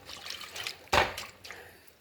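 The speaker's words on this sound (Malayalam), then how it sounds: "അതിൽ കുറച്ച് വെള്ളം ഒഴിച്ച് അടുപ്പത്ത് വെക്കാം" Water is poured into a cooking pot holding chilli powder, turmeric and salt: one short, fairly close splashing gush that quickly fades, over faint kitchen background.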